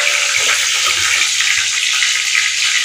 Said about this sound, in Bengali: ভীষণ ছিটছে বন্ধুরা।